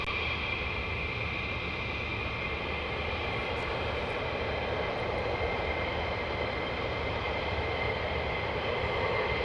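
Fighter jets of the 48th Fighter Wing roar as a steady, broad rumble and hiss, sustained at moderate level without talk.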